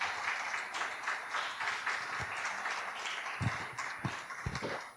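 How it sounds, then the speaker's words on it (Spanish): Church congregation clapping in praise during a sermon, a faint, steady patter of applause heard from a distance in a reverberant hall, with a few louder nearby claps toward the end. "Dale un aplauso al Señor"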